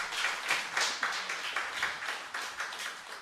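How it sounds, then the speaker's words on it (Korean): Congregation applauding after a church sermon, a dense, steady wash of many hands clapping together in a hall, moderately loud and continuous with no talk over it. "다시 한번 큰 박수 부탁드리겠습니다"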